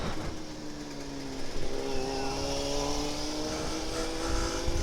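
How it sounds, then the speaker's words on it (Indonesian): A motorcycle engine revs up and down nearby on a Jakarta street, its pitch climbing as the throttle is opened, with steady road and engine noise throughout. "Dia geber-geber."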